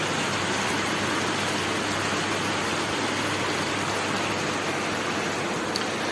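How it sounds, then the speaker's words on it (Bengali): Heavy rain pours down outside a window, a dense, steady hiss of falling water that stays loud and unbroken throughout, with no voices. "দেখি একদম ঝপঝপ করে বৃষ্টি নেমে গেছে দেখো"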